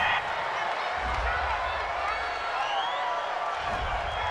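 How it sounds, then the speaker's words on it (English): A home crowd cheers steadily through the whole stretch in a Madden 20 NFL football simulation game after a pass interference call, a dense roar of stadium noise with no clear break. "This home crowd, they're happy with that call."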